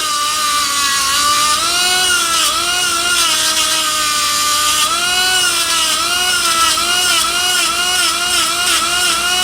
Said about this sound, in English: You could do this on a bigger buffing wheel